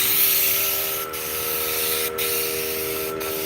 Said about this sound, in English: so underneath will need to be sprayed